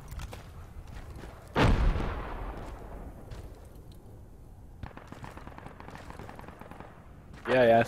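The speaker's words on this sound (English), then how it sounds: "Who the heck is shooting at me?" Gunfire in the military shooter game Project Reality: a loud, close burst of shots, quieter scattered fire in the background, and another sharp burst near the end.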